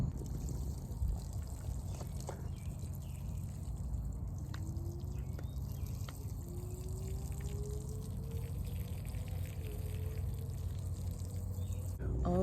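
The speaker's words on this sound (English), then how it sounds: "then I'm gonna water these in" Water pouring and trickling onto freshly planted store-bought potatoes in soil, a faint, steady low splash running throughout, heard close and alone.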